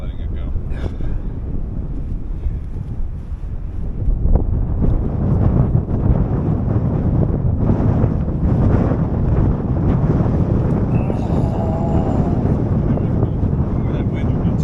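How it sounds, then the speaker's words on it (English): Strong coastal wind buffets the microphone in a loud, continuous roar with gusts rising after a few seconds, broadband rumble throughout, and faint higher tones drifting in near the end. "That wind gets you."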